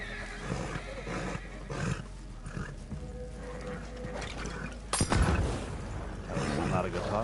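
A horse in the video game Red Dead Online whinnies amid in-game sounds, with a person talking over it and a sudden louder burst partway through.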